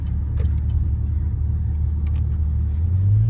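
An Opel Insignia OPC accelerating, its engine a steady deep rumble from inside the car that climbs in pitch toward the end.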